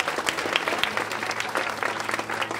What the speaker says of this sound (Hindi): इनके लिए भी एक बार जोरदार ताली हो जाए।